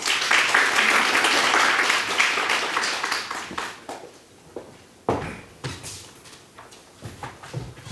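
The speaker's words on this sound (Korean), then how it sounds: "큰 박수로 환영해 주시기 바랍니다" Audience applause welcoming an Irish embassy agricultural counsellor to the podium at a Korean agricultural forum on sustainable farming; dense, sustained clapping for about three and a half seconds, then thinning into scattered claps.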